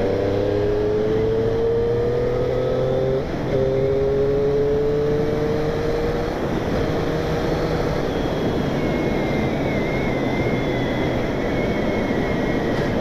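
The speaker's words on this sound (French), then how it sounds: "J'ai l'impression qu'elle pète un peu plus que les versions 2019 que j'avais essayé" A 2020 Triumph Street Triple S 660 motorcycle engine droning while riding, with steady tones that shift pitch as the revs change over constant wind rush.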